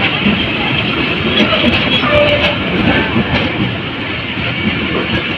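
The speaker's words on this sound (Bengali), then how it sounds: "আর ট্রেন থামার অপেক্ষায় এই যে" A Mongla commuter train pulls into a station on the Mohammadnagar–Noapara route, its loud, steady rumble and wheel noise filling the whole stretch with no clear breaks.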